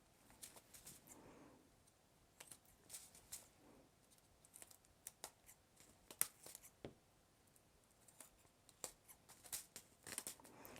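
Scissors snip the edges off a thin plastic page protector at a craft table, making quiet, crisp clicks and crinkles scattered irregularly over about ten seconds, faint and close with no talking.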